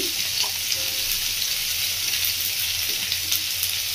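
Cut pumpkin, drumstick and beans dropped into hot oil in a pan, a steady bright sizzle and frying hiss throughout with faint soft clatter, no talk.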